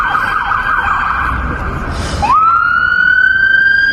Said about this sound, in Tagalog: Ang bilis ng pagpapatakbo ng ambulansya niyan.